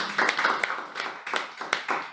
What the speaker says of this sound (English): let's give a huge round of applause to our Sergeant Arms, Toastmaster Krishna